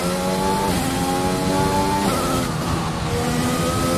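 An F1 car in a racing game runs flat out, its high-revving engine rising in pitch and then dropping sharply at quick gear changes, loud, close and unbroken, with no talk over it.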